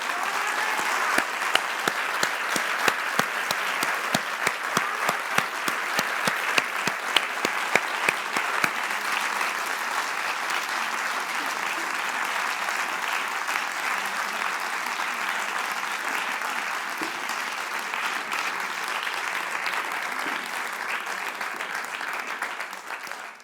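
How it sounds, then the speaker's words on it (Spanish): An audience at a public talk applauds for over twenty seconds: sharp, distinct claps at first, then thickening into a steady, dense wash of clapping that tapers off at the end. "os pediría un aplauso no para mí, sino para las mujeres rusas y ucranianas"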